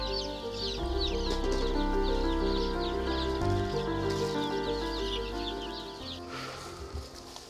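Young native chicks on a small farm run by three novice farmer brothers peep in a constant busy chorus, high chirps layered over steady clucking, close and lively for several seconds before thinning out toward the end.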